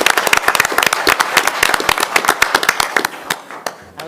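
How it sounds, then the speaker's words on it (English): Scattered, irregular clapping from a modest city council meeting audience honoring recognized guests, sharp individual claps that thin out toward the end. "Let's give them all a round of applause."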